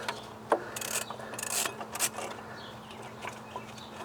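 A ratchet on a wobble socket works a bolt on a Ford C-Max rear suspension, giving a few short bursts of close metallic clicking separated by pauses.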